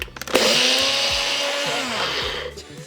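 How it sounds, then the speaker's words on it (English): A Ninja blender pulses large lupini flakes, starting with a few brief bursts before settling into a loud, steady whirring grind that lasts about two and a half seconds and then trails off. "we're gonna pulse them a couple times in our Ninja blender to get them a little bit smaller"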